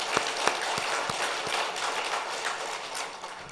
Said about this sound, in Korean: 다시 한번 하나님께 영광의 박수 한번 합시다